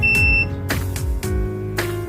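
Electronic beeps from a UV curing lamp used to cure a fiber optic SC UPC drop cable connector, several short tonal beeps in sequence, close and clear.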